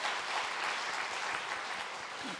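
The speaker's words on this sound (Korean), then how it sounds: "우리 노력해 주신 우리 성가대원들에게 격려의 박수 한번 쳐드리도록 하겠습니다" A church congregation applauds its choir members during a Sunday morning worship service, a dense, steady wash of many hands clapping close and even throughout, with no talking over it.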